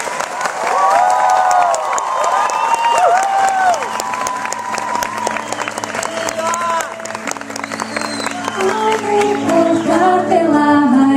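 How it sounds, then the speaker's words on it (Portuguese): Live audience at a music concert applauding and cheering, a dense steady wash of clapping with shouts and voices through it and some sustained tones underneath, loud and continuous throughout. "Conta 3, vem de aplauso,"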